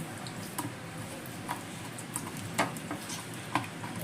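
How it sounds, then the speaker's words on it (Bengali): Raw boal fish is squished and mixed by hand with spices and lemon juice, soft wet squelches and light ticking slaps recurring irregularly over a faint background hiss. "এখন এই সব কিছু দিয়ে ভালো করে মাছটা মেখে নেব।"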